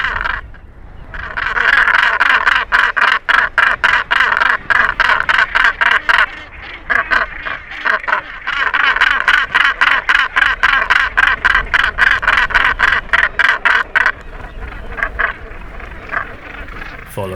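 Northern gannets at a breeding colony deliver loud, harsh, rapid rhythmic calls during a paired greeting ceremony, a dense continuous chatter of repeated grating notes close to the microphone that briefly drops out twice before resuming.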